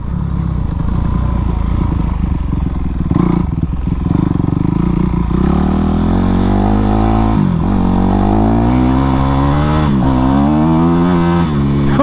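A Honda CRF450 four-stroke off-road motorcycle engine idles loudly up close, then revs in repeated rising and falling surges, its throaty note climbing sharply with each blip of the throttle.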